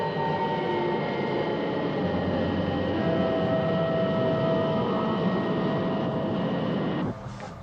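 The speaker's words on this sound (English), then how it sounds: "The Lunar Module with Colonel Freeman on board is docking now." A Lunar Module from the TV series UFO lands and docks at Moon Base: a sustained, loud, droning engine roar with steady tonal whines on top, cut off abruptly near the end, leaving a quieter hum.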